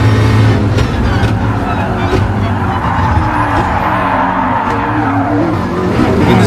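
A McLaren P1 GTR race car in GT Sport, driven in VR around Kyoto Driving Park Yamagiwa+Miyabi, with a loud, constant engine roar and tire squeals and skids running through.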